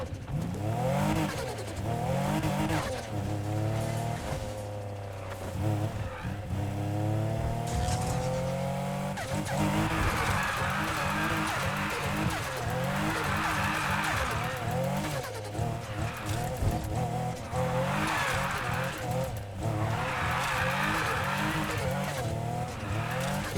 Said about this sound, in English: Let's see how good it is at drifting.